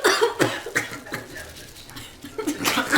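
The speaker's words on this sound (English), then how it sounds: "the reason why everybody's got a little bit of a cough is because those peppers, those dry peppers, are kicking" Several people cough and clear their throats while dry hot peppers are seasoned by a Pit Boss pellet smoker; short bursts repeat through the moment with light chuckling mixed in.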